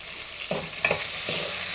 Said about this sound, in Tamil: நல்லா இதுவே நல்லா ஒரு ரெண்டு நிமிஷத்துக்கு வதக்கலாம்